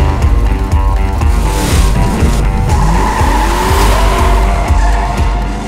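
A Chevelle's tires skid and squeal loudly during a staged film car chase with a professional driver at the wheel. Engine roar runs continuously beneath long sliding screeches.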